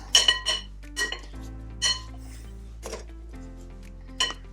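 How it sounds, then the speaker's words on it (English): A metal butter knife cuts butter into flour in a bowl, giving scattered close clinks and scrapes against the bowl in irregular bursts, with no voices. "And keep cutting it into the flour."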